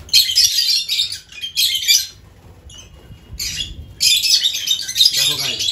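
Lovebirds in a colony squawk and chirp in loud, harsh bursts as they fight over a breeding box, with short quieter gaps between outbursts and a voice speaking briefly near the end.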